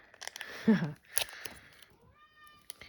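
A domestic cat gives a short meow close by, mixed in with a person talking nearby.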